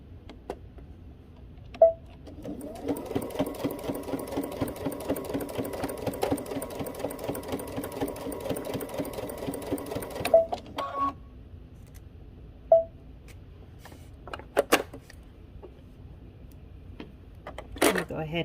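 A home sewing machine runs an edge stitch on a garment, humming steadily for about eight seconds with a rapid needle rhythm, then stopping; a few light clicks and handling sounds follow, with brief talk.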